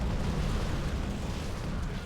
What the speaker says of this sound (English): Plasma Cannon getting a massive shot,